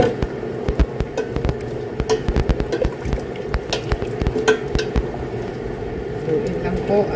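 Eggplant and string beans sizzle in a pan for a jute-leaf mixed-vegetable dish, with a steady frying hiss and scattered clicks of stirring, while a voice talks over the cooking.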